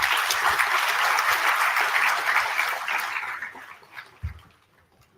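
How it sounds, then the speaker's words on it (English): A full auditorium of around 200 new students at a BBA program inauguration gives a round of applause, a dense, steady wash of clapping that fades over the last couple of seconds. "it calls for a huge round of applause for all of you."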